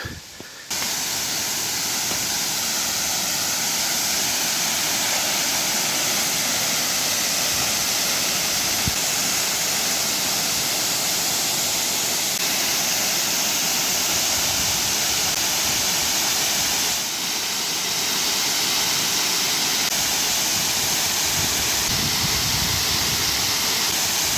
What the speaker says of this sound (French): La cascade, c'est une tuerie.